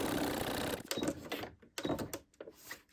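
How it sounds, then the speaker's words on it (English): A sewing machine stitches a dog coat in quick bursts of rapid mechanical chatter, stopping and starting with short gaps between runs, close and fairly quiet. "As you come to do a corner, make sure that your needle is down, lift up the presser foot, pivot round, and continue stitching on."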